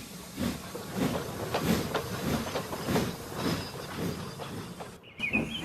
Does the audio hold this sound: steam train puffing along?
yes